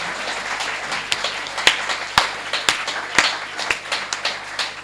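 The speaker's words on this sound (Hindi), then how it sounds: "एक बार तालियां बजाओ उन सब के लिए।" Scattered audience clapping at a Hindi poetry gathering (kavi sammelan) in Rohini, a handful of distinct sharp claps ringing out unevenly rather than full applause, moderately loud over a quiet room.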